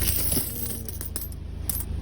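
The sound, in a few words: coins dropping into a savings pile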